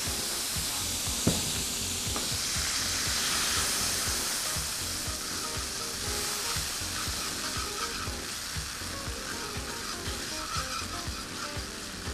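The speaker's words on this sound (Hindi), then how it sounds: "तो हम पानी डाल देंगे।" Water hits a hot saucepan taken off the heat while making Vienna sticks, setting off a loud, steady frying sizzle that crackles and hisses for the whole stretch, with stirring noises and no talk.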